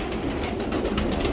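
A Mamdin pigeon coos in a brief, close, low murmur against a soft, steady background hiss.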